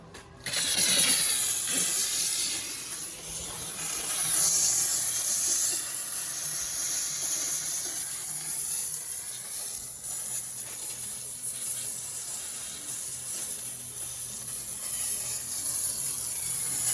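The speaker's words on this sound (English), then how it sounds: "Doing a bit of steam cleaning here to get all the crud off." A loud, continuous hiss of a steam cleaner cleaning grime off an Audi A8 engine runs throughout, rough and broadband with slight surges, no speech.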